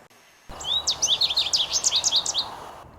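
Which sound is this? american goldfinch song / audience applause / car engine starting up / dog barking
american goldfinch song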